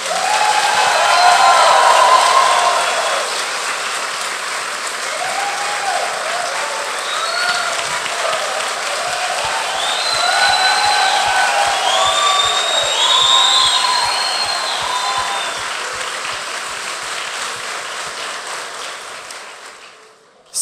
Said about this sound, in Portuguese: Vamos dar um aplauso bem forte para eles?